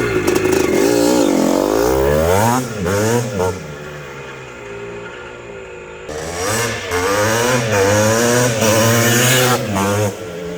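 A 1983 Maico Spider MC250 motorcycle's 250cc engine revs hard and loud, its pitch climbing and falling through repeated throttle blips, with a brief dip to idle before revving again.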